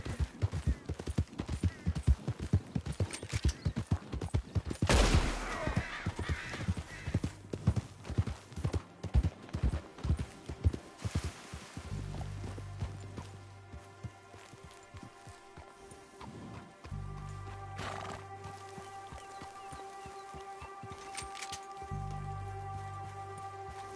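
Horse hooves in a Wild West GTA-style video game: a rapid, loud clip-clop gallop that fades into slower, sparse steps with some rustling and tonal game sounds, no voices.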